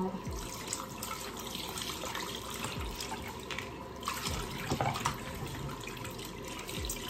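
Water runs steadily from a tap while something is washed out under it, with a constant splashing flow and occasional drips and clinks, heard up close with no talk.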